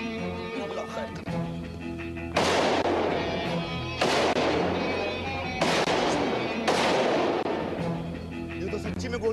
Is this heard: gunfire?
yes